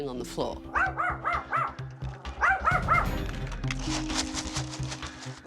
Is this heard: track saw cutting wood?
no